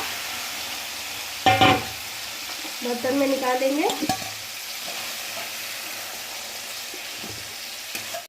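A spatula stirs and scoops lightly cooked pumpkin in an oily pan, giving a few short scraping and sizzling bursts over a low background hiss, with a brief voice in between.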